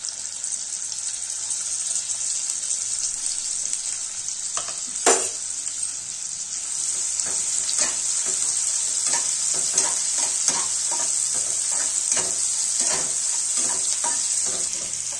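Garlic, cumin and onion fry in a pan for a Maharashtrian vegetable dish, making a steady loud sizzle with a sharp clack near the start and then a series of stirring scrapes and taps on top.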